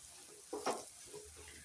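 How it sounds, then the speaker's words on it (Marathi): A spice paste of garlic, green chili, cumin and peanuts fries gently in oil over low heat, a faint soft sizzle with a brief stir-like swell midway. "इथे हे वाटण आपल्याला चांगलं फ्राय होऊ द्यायचं।"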